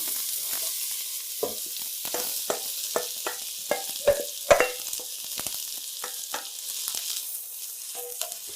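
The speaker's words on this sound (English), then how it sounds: "And now I'm going to saute all the onions in there." Chopped onions sauté in neutral vegetable oil in a pot for beef stew, a quiet steady sizzle broken by frequent sharp pops and occasional stirring scrapes, close and fairly faint.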